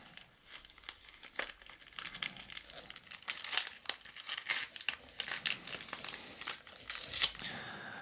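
Gift wrapping paper is torn open and crumpled by hand in a rapid run of crisp crinkles and rips lasting several seconds, close and fairly quiet, with no clear talk.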